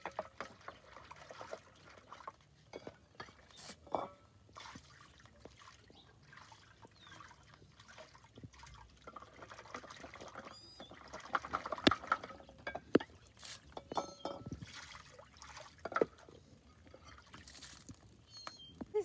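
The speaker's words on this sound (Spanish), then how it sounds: "voy a lavar esto, a mí sí me gusta lavarlo siempre" Dried corn husk leaves are washed by hand for corundas, with soft intermittent trickles, pours and splashes of water alongside crinkling handling sounds, quiet and close, without talk.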